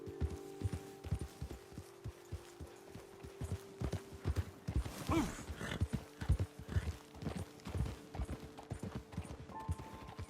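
Horses' hooves clip-clop in an irregular, overlapping rhythm as riders move along in a video game, the clear thuds and clacks close and fairly loud over a faint background hum.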